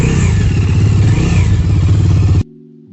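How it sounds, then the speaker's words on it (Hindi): A motorcycle engine in a village starts up and revs loudly with a rough, clattering idle, running steadily close by for a couple of seconds before cutting out abruptly. "ये हमारी बाइक स्टार्ट हो गई यहाँ पे,"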